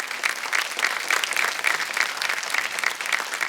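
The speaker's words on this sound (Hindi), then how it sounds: "जोरदार तालियां कैलाश भाई के लिए।" A grand finale audience gives loud applause for Kailash Bhai, many hands clapping in a dense, fluttering mass with slight swells, steady throughout and alone without speech.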